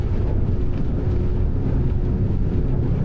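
Steady, loud engine roar from an Evo R4 Icone powerboat running at about 3,500 RPM near 29 knots, a continuous low drone mixed with rushing wind and water, no talk.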